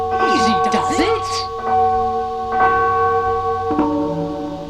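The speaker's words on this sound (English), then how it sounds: "the Hamelin people ringing the bells till they rocked the steeple" Church bells ring in a steeple in the town of Hamelin, their sustained, layered tones sounding steadily throughout, with fresh strikes about every second and a half under a busy blend of other sound at the start.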